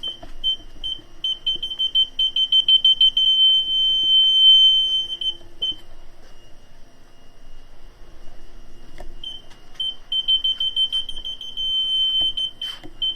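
Steady high-pitched electronic beeping from aftermarket parking sensors on a Fiat 500, sometimes rapid and pulsing, sometimes a continuous tone, with brief gaps and faint background noise.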